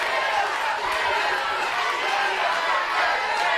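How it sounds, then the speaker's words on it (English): Large wrestling event crowd roaring in sustained ovation, a dense, steady wash of cheering and chatter filling the arena, with a commentator's voice over it. "Huge ovation for the former 4-time"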